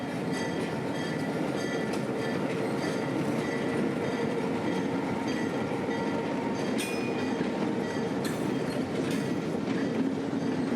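Locomotive 8330 pulls into a station platform at a railroad museum, with a steady rail rumble and clatter throughout, faint wheel squeals and clacks rising near the end.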